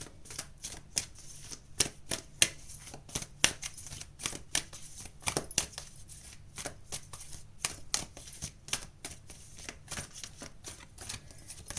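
Tarot cards are shuffled by hand close up, with repeated crisp riffling and slapping flutters in an irregular rhythm over a quiet room and no talking.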